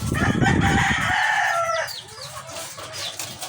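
Layer hens cluck and call close by, a loud burst of squawking that fades into softer clucks and chirps.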